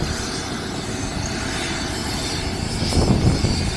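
An emergency airlift helicopter at a drift event, its engine running as a steady, loud broadband roar and rumble with no talk over it.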